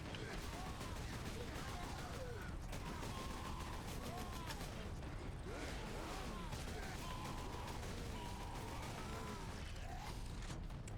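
Gunfire and chunky explosions from the video game Warhammer 40K: Space Marine, a dense, continuous loud wash of shots, blasts and mechanical clatter with no clear gaps.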